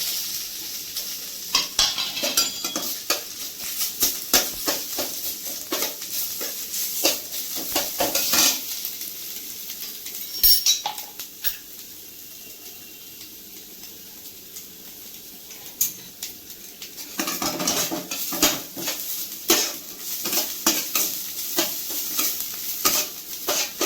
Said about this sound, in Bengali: এখন আমি শুক্তোর নারকেলটাকে আমি ঘি দিয়ে একটু ভেজে নিচ্ছি